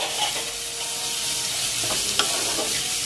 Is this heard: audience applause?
no